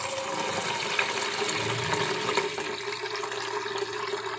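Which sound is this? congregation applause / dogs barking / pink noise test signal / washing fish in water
washing fish in water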